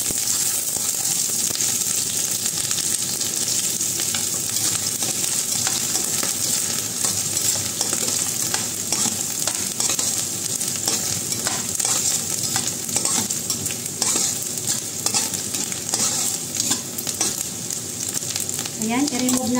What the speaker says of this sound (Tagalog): May cooking oil na ang ating frying pan. Lagyan na natin ang sibuyas.